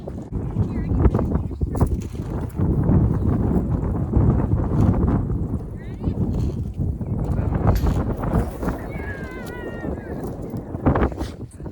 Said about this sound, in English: The wind, guys, it's killing me.